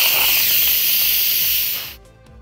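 Loud, close steam hiss from an Instant Pot's pressure vent, sustained for about two seconds before cutting off sharply, followed by a couple of faint clicks.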